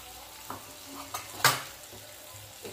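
Garlic chutney frying in oil in a pan, a soft steady sizzle with a few sharp scrapes and clinks of the spoon as it is stirred, close by with no talk.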